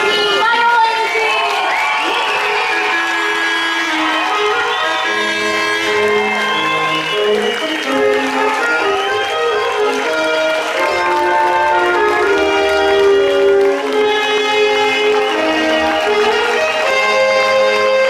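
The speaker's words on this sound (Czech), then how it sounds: "A teď už prosím obrovský potlesk pro první majolenky!" A large crowd claps and cheers continuously at a cheerleading championship award ceremony in Jaroměř, loud and sustained, with scattered shouts and whistles rising above the steady applause.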